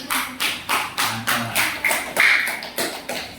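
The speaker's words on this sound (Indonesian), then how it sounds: "Terima kasih tepuk tangan semuanya." Classroom of students clapping together in a steady rhythmic beat, about ten even claps close by, with no talking over it.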